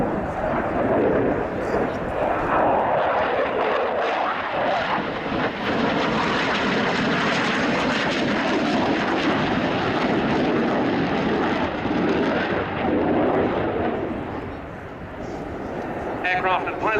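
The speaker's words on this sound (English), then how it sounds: "Aircraft and pilot today coming from the 1st Tactical Squadron of the Polish Air Force" Polish Air Force MiG-29 fighter jet from the 1st Tactical Squadron flying at an airshow, a loud sustained engine roar that swells and recedes over the full span, with crowd or announcer talk beneath it.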